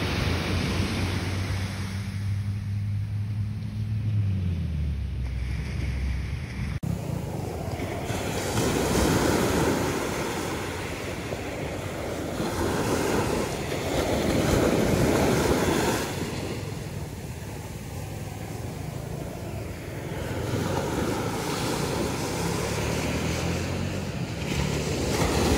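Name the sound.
sea waves on the shore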